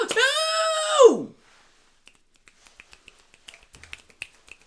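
Finger snapping used as applause in the Mario Kart Tour video game: a short voiced game exclamation, then a scattered run of small, crisp snaps that grows denser toward the end.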